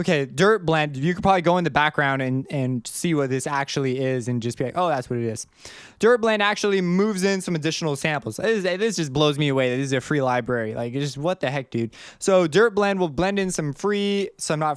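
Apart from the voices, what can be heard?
No distinct noise like a dog, phone or traffic.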